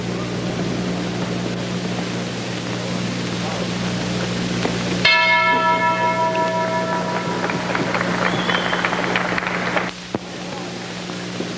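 A boxing ring bell rings once to start a round at a 1955 bout, its bright metallic strike ringing out and decaying over several seconds above a steady crowd and broadcast hum.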